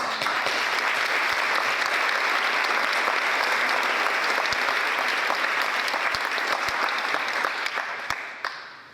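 Sustained audience applause fills a county board of education meeting room, dense steady clapping from a crowd that holds for several seconds before tapering off at the end.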